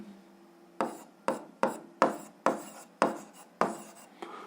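Pen or chalk strokes while handwriting physics notes, about eight short scratchy strokes in a quick uneven rhythm, close and clear with nothing else heard.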